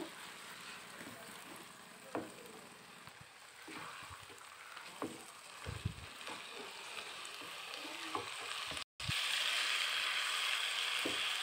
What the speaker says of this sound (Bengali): গরম তেলের মধ্যে একটু ভালো করে ভাজা ভাজা করব